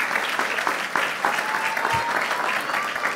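A church congregation breaks into applause, steady hand clapping that carries through with scattered louder claps and a faint held tone above it.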